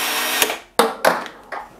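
A Milwaukee power tool cuts through thin-walled plastic cable channel, giving several short, loud bursts of harsh, scratchy cutting noise separated by brief pauses, close up with no talk.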